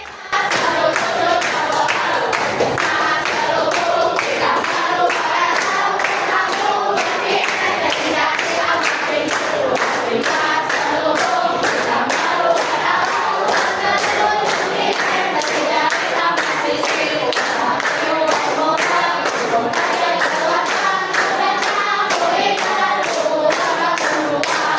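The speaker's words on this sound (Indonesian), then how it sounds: "Tepuk tangan." Many people clap their hands in rhythm along with a sung tune to the melody of Ampar-Ampar Pisang, loud and continuous, with voices mixed in.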